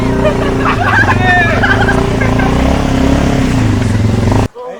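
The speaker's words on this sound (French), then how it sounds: "Ouais, il y a une moto, les gars!" A motorcycle engine revs hard and accelerates nearby, loud and raspy with rising and falling pitch sweeps, before cutting off abruptly at the end.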